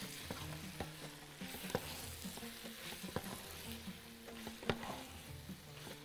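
Calamari being stirred with other ingredients in a pot for a Bahraini machboos, a steady sizzle with scraping stir strokes and occasional clicks throughout, close and moderately loud with no talking.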